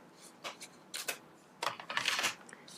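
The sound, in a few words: cutting paper with scissors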